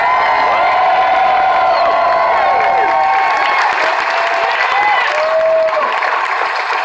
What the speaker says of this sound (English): How about a big round of applause for Weird Al Yankovic?